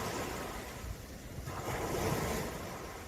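Sea waves washing in a continuous surging rush with some wind, steady and fairly close, no voices.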